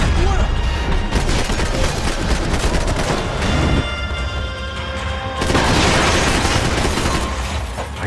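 Dense gunfire in the video game Max Payne 3, a loud sustained fusillade of shots with booms layered over a busy game soundtrack, shifting in intensity partway through.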